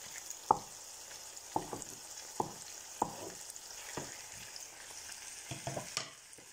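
Pepper goes into a yam and garden egg sauce frying in a pan, with a steady low sizzle and several sharp clinks and stirring knocks from a utensil spaced through the scene, and no one talking.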